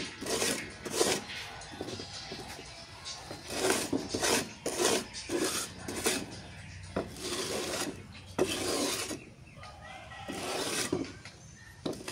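A sickle blade is sharpened by rubbing it with clay soil, producing repeated gritty rasping strokes in an uneven rhythm, close and fairly loud, with short pauses between passes.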